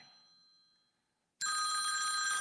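A telephone rings loudly and steadily in the second half, breaking in after a short lull that follows a fainter tonal sound, with no talking over it.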